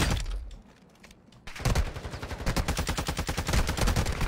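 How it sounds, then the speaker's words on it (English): Video game gunfire, with the enemy's shots hitting concrete, begins after a quieter second and a half and then keeps going as a rapid, loud burst of automatic shots. "My man's shooting through concrete"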